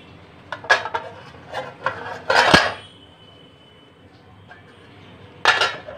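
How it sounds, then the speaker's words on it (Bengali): A metal lid is lifted off a pot on a stove while baking an orange cake, with several sharp clinks and scraping rattles, one louder clatter near the middle, and a final clink after a pause. "ঢাকনা তুলে দিলাম।"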